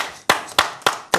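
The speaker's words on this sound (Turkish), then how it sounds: "Ben seni alkışlıyorum" Slow, loud, deliberate hand claps in a steady rhythm, four in just over a second, close to the mic, with a brief hum between claps, heard on a Turkish folk music talk show.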